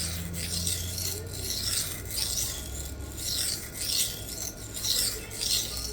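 Knife edge scraping in repeated strokes across a brand-new Sharpal 325 grit diamond plate, a close, steady raspy rub with regular rhythmic surges and no talking.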